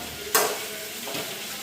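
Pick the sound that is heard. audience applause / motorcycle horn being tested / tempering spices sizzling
tempering spices sizzling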